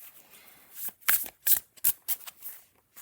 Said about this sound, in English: And as long as you're gentle, it's a nice shuffle.